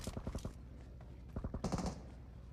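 Gunfire in PUBG Mobile comes as two quick automatic bursts of rapid shots at moderate volume, the first opening the moment and the second following after a short pause.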